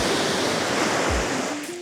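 Strong surf roars in a dense, continuous rush of crashing water, loud and close, with no voices.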